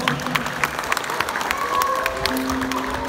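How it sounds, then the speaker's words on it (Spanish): A crowd applauds steadily at a municipal ceremony, dense clapping close by with a few voices and a tonal hum mixed in beneath. "Para él le damos un fuerte y caluroso aplauso."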